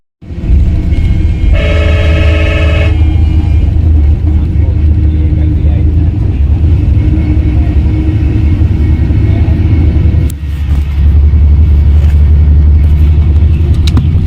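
Interior of an air-conditioned bus travelling from Badrinath toward Delhi, with a loud continuous engine rumble and road noise throughout, a brief horn toot near the start, and a short dip in the drone before it resumes.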